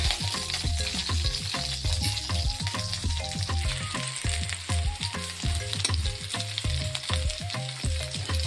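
Green chillies fry in hot oil in a kadai, a steady loud sizzle with crackling pops throughout and no speech, made while cooking an Andhra-style tomato coriander chutney.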